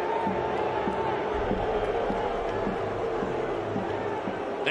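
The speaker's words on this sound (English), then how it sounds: "the Brickyard Battalion have something to cheer for" Brickyard Battalion supporters of Indy Eleven cheer in a Louisville stadium during a soccer match against Louisville City FC, a steady dense crowd roar with faint rhythmic chanting, distant and continuous.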